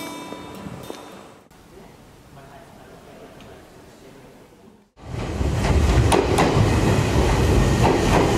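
Train running on rails heading toward a hot-spring station in Izu, first a muffled rolling rumble, then a quieter stretch, then a sudden loud surge of rushing, rattling noise for the final seconds.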